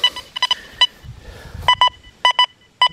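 An XP Deus 2 metal detector, running a two-tone program with a 4 through 8 notch, sounds short bright beeps over a nickel, coming in quick repeated bursts with brief gaps between them, up close and clear.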